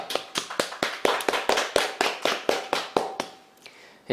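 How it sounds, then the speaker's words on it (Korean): A church congregation claps together in a steady, even rhythm of about fifteen sharp, loud claps at a Sunday worship service, fading near the end, with no talking. "함께 박수로 하나님께 감사를 올려드렸으면 좋겠습니다"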